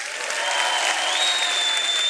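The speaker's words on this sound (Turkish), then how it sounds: "Nihatçılar bir alkışlasın bakayım" Studio audience applause from fans on a live Turkish television show, a dense, even wash of clapping and crowd noise filling the whole stretch at steady loudness.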